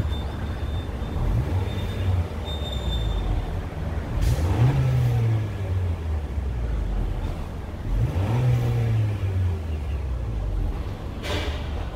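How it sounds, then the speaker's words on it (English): A 2018-2019 Honda Accord engine with a catless race downpipe revs up in repeated bursts, rising and falling in pitch twice over a steady throaty idle, close and loud. "We'll give it a few revs so you guys can hear it"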